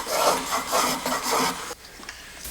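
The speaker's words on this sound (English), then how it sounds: "smooth them using a spoke shave and a scraper blade" A spokeshave and scraper blade smooth curved veneered wooden legs in a rhythmic series of four or five close, raspy scraping strokes, followed by a brief quieter pause.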